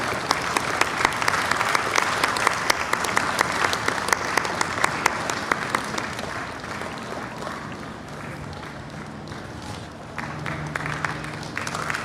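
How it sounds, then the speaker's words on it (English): A large audience at the World Culture Festival gives a sustained round of applause, dense clapping that continues for many seconds, easing slightly midway, with a voice speaking faintly over it near the end. "Let's put our hands together."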